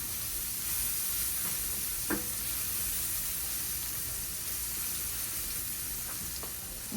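Onions sauté in a pan for cube steak gravy, giving off a continuous, even sizzle and hiss with a couple of faint utensil clicks, steady throughout and moderately close.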